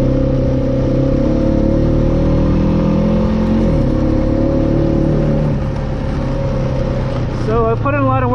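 Steady, loud motorcycle engine with a newly installed muffler, idling and revving in a sustained drone with a pitch dip partway through, recorded close up as wind and outdoor noise run underneath.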